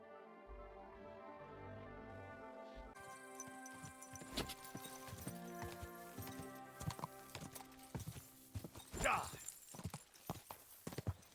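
Horse hooves clip-clopping at a steady walking pace in Kingdom Come: Deliverance 2, with game music and a voice speaking over them; a brief whinny rises near the end.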